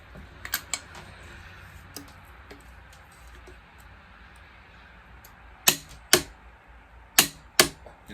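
A torque wrench tightens bolts on the stator side cover of a 2005 Yamaha Banshee: faint ratcheting ticks, then a few sharp, loud clicks in pairs as the wrench reaches its setting, close by with no talking.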